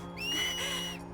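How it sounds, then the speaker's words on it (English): A whistle from the video game Final Fantasy X, a clear rising-and-falling tone lasting about a second over a steady background hum. "Give a little whistle."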